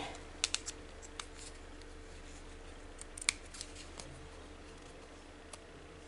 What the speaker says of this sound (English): Trim a bit of excess off this one.